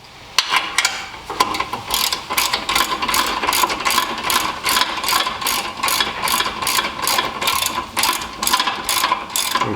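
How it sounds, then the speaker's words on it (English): Ratchet wrench loosening and backing out a rear brake bolt on a 2003-2009 Toyota 4Runner, a fast continuous series of close, loud metallic clicks in steady rhythm for nearly ten seconds. "you just loosen and remove the other bolt"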